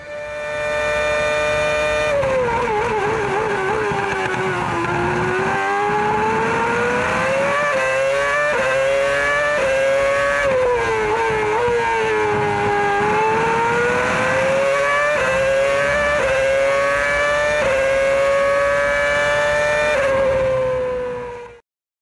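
A Formula One race car engine screams at speed, a loud, continuous high-pitched whine that sweeps up and down with gear changes and throttle, close and sustained for over twenty seconds before cutting off.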